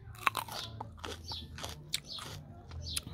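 Someone bites into and chews a homegrown, unfertilised sour orange, with a few close wet crunches and juicy chewing sounds against a quiet background and no talking.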